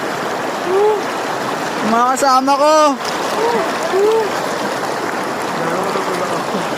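River water flows and rushes steadily in the background while people talk and call out nearby in Tagalog.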